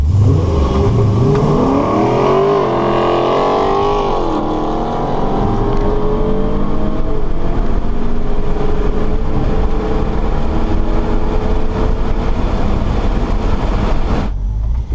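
A cammed Dodge Challenger R/T engine roars through hard acceleration in a drag race, climbing in pitch through gear shifts, loud and close in the cabin, sustained for the whole run before cutting off.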